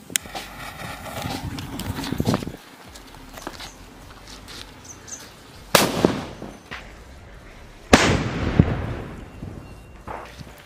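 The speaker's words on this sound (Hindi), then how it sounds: "अब जलाते हैं इस वाले लोकल सूतली बम को, देखते हैं ये किस तरीके से जलता है और होल का हाल क्या होता है।" A local sutli bomb firecracker goes off inside a cement hole during Diwali fireworks testing: a sharp blast near six seconds, then a louder crack near eight seconds with a ringing tail, over outdoor background noise.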